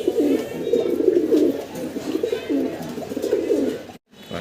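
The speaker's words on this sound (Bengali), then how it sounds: "এক জোড়া চমৎকার কবুতর দেখাচ্ছি" A pair of Rajgolla-coloured pigeons coo steadily and close by, their low throaty calls rolling continuously with a brief silence near the end.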